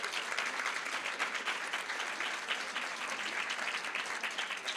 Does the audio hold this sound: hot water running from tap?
no